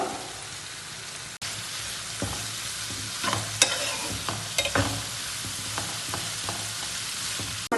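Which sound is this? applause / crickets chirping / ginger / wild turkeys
ginger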